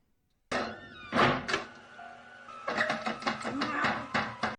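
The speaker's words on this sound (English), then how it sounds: "Doors closing and locking without explanation." Doors closing and locking in the horror film Halloween (1978): a sudden heavy thunk followed by clattering, rattling mechanical knocks and shuffling, fairly close, with a faint voice underneath.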